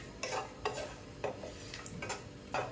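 Coconut is stirred and roasted in a pan for flax seed chutney, giving a few scraping spatula strokes at a steady pace over a soft, steady background, close up with no talking.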